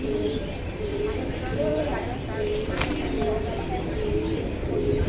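Pigeons coo in soft repeated calls at a busy pigeon market in Jinjira, mixed into steady crowd chatter and market noise, with people talking nearby.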